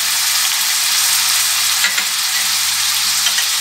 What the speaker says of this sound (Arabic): بعد ما دبت معايا الزيت وسخنات الزبده كذلك غادي نضيف البصله